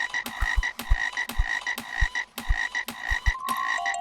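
Repeated frog croaks in an irregular rhythm over a steady tonal game-like background, with short thumping hits between calls; no talking.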